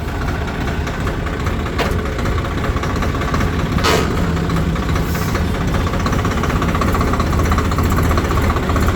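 A Swaraj tractor engine runs steadily at road speed, with a constant loud mechanical drone and rattling vibration.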